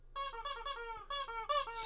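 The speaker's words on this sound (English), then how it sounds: "squeak that a few times." Rubber chicken toy squeaked repeatedly, four or five strained, honking squeals in quick succession, loud and close with no talk over them.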